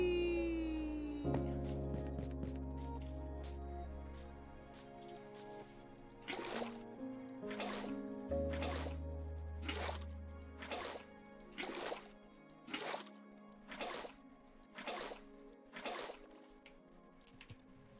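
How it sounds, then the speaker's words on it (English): Buckets being filled with water in the Minecraft video game, heard as a regular series of short liquid splash sounds, about a dozen evenly spaced, over a steady background of music. "Go get some buckets of water."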